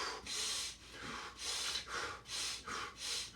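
Deep rhythmic breaths in a Wim Hof breathing exercise, each airy inhale and exhale rising and falling in a steady cycle, close and fairly quiet, with no talking.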